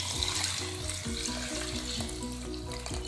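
Thin second coconut milk goes into vegetables frying in a pan for a coconut-milk egg stew, producing a close, continuous crackling sizzle at an even level throughout.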